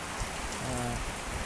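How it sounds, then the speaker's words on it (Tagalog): Heavy rain pouring down during a solo motorcycle ride at a viewpoint in Quezon, Bukidnon, a dense steady hiss with no talking. "So kusog kay ang ulan guys."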